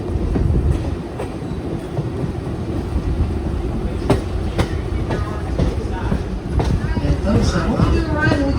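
A steam excursion train heard from onboard, with a continuous low rumble and rhythmic clickety-clack of wheels on rails, occasional sharper clanks, and voices talking under the noise.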